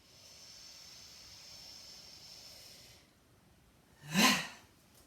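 A deep breath taken during a stretching exercise: a single loud, breathy exhale or sniff near the end, following a soft steady hiss, close to the listener, with no talking.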